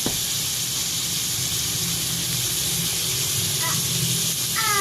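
Garlic, onion and pork sautéing in a pan for pancit bihon, a steady loud sizzling hiss close up with a few faint clinks near the end.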